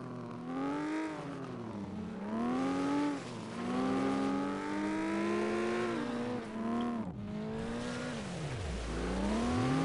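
A racing car engine in the FlatOut video game revs loudly and continuously, its pitch rising and falling through gear changes, with brief dips as the throttle lifts and a final low drop before climbing again.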